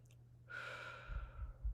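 One slow, deep breath, an airy exhale close to the microphone lasting about a second, followed by a few soft low thumps.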